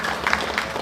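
A crowd at a Balinese drama gong stage performance in Buleleng claps in a brief, dense burst, steady and fairly loud, with no voices standing out.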